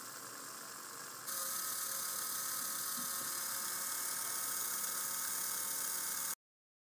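A small GoBrick or Lego electric motor spins freely during an RPM test, a steady high-pitched whir that jumps louder and higher after about a second, then cuts off abruptly near the end.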